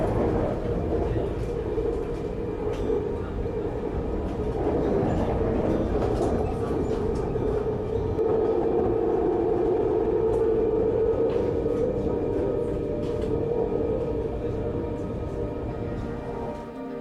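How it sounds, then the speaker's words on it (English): A passenger train heading to Taipei, Taiwan, rolls along with a steady interior rumble and a continuous low drone. The sound is close, even and unbroken for the whole stretch. "I took the train to Taipei"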